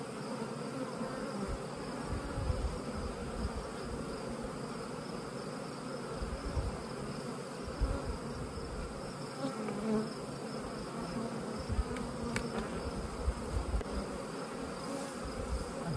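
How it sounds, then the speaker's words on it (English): Dense honeybee buzzing from a box holding several pounds of bees fills the space, a constant swarming hum close by with small shifts in intensity and no talking. "The box is probably 5, 8, 10 pounds of bees."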